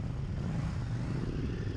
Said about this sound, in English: The bike sounds pretty good, even with the stock exhaust.